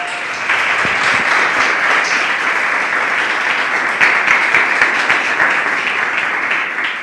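A church congregation claps for the Lord during a Sunday morning service, a loud, steady burst of applause that swells in quickly and carries on evenly without talk.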